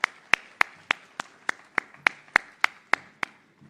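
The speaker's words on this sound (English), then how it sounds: "a big applause for your president and for the whole team" Slow, evenly spaced single claps, about a dozen sharp hand strikes in a steady rhythm, close and fairly quiet, greeting a president at the launch of the WRC Safari Rally 2025 at KICC.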